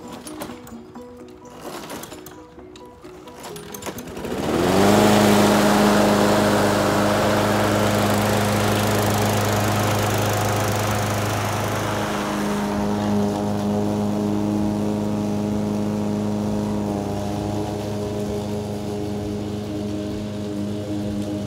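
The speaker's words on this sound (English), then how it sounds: "I'm using this Craftsman walk behind because I don't have a bagger for the lawn tractor yet." Craftsman walk-behind lawn mower starting up after a few pull-cord tugs, then settling into a loud steady high-pitched engine whine that carries on close by without talk.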